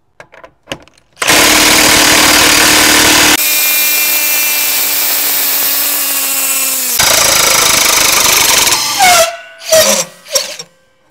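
A Makita 3/4-inch D-handle impact wrench drives a fastener, running loud and steady for about eight seconds with a shift in pitch partway through, then cutting out into a few short uneven bursts.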